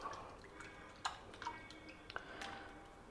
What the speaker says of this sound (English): Now we will just squeeze it out and extract the juice